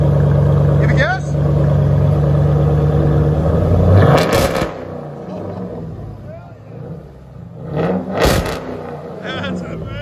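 A 2012 Jeep Grand Cherokee 5.7L HEMI V8 with dual Flowmaster Outlaw exhaust and deleted mufflers idles loudly up close, then two sharp throttle blips roar out, one near the middle and one near the end, each dropping back to a rumble.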